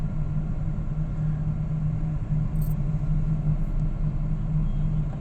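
Slow, congested road traffic crawls along, a steady low engine rumble and hum from nearby vehicles throughout, with no talking.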